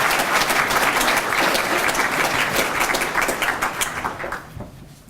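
A conference audience claps warmly to welcome a speaker to the podium, dense steady applause that holds for several seconds before thinning out and fading near the end.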